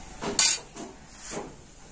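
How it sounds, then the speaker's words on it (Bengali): A spoon stirs powdered milk into liquid milk in a metal pot, making a few soft scraping strokes and one brief bright clink against the rim. "তো গুঁড়ো দুধটা এখন লিকুইড দুধের সাথে ভালো করে গুলে নিচ্ছি।"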